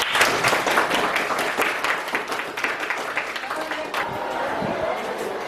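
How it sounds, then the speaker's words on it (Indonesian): A classroom group of students claps for group 3 in an Islamic studies lesson on funeral prayer, with dense, fast clapping that starts loud and gradually thins and fades over several seconds. "Oke, tepuk tangan untuk kelompok 3."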